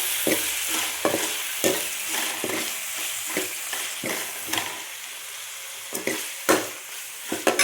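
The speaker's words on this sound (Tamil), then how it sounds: "இதை வதக்கணும்." Tomatoes sautéing in a pan for a tempered fish curry, a constant hiss of frying broken by repeated sharp scrapes and knocks of a stirring spoon.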